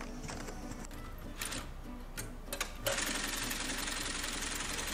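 A sewing machine stitching a shoe runs in a fast, even mechanical chatter, starting quieter and then getting louder and denser midway, steady and close.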